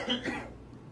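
A party spokesperson coughs on a studio broadcast with political commentators, two quick, close coughs followed by fading room noise.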